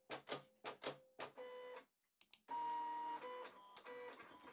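A Silhouette Cameo 5 cutting machine runs through a cut: sharp clicking carriage moves, a short pause, then a sustained whirring motor tone with small mechanical knocks, close and fairly quiet.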